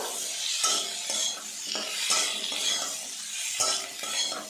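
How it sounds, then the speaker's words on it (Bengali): Flat broad beans fried and stirred in hot oil in a pan. A spoon scrapes in repeated, rhythmic strokes over a soft, constant sizzle, close and fairly quiet. "শিমটা নাড়াচাড়া করে ভাজা ভাজা করে নেবো"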